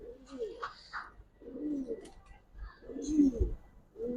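A pigeon coos in soft, low, rolling bursts, repeated several times at close range with brief pauses between calls.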